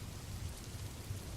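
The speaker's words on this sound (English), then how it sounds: "Outside, the wind screamed and rain lashed against the lighthouse." Steady storm rain pours and lashes against a lighthouse amid heavy wind, a dense continuous wash with low rumbling underneath, with no talking.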